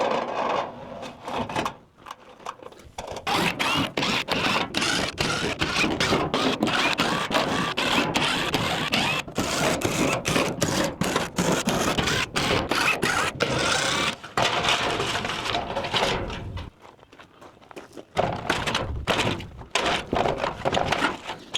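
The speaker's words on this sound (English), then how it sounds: "I think I'll do that as I go down and unscrew everything" Power drill unscrewing panels during a shop project, heard as a long run of dense broadband whirring with frequent short stops and restarts, fairly close and steady, with no talk.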